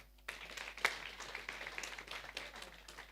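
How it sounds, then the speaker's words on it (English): Audience applause for conference panelists at an Africa water-energy-food-ecosystems nexus summit, a faint distant patter of many hands clapping in a large room. "But a better round of applause."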